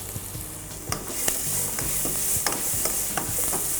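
Onion, garlic and mushrooms fry in a pan while being stirred, giving a close, steady sizzle broken by sharp scraping clicks from the utensil, with no voices.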